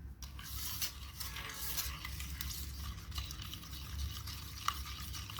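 Milk and sugar being stirred in a bowl for fluffy cake batter, a steady scraping and swishing of a spoon through liquid, continuous and close with light clinks against the bowl.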